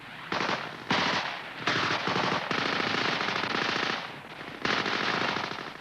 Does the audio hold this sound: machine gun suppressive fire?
yes